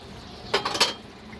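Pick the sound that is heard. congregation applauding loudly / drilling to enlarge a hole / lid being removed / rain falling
lid being removed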